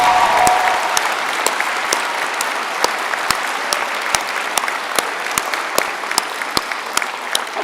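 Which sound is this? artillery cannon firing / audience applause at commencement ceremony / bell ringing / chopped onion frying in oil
audience applause at commencement ceremony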